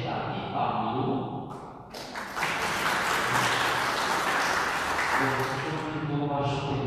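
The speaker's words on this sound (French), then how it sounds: "nous applaudissons aussi chaleureusement" A Sunday Mass congregation breaks into warm applause for a parishioner's 87th birthday, sustained clapping from a gathered crowd with voices briefly heard at the start and end.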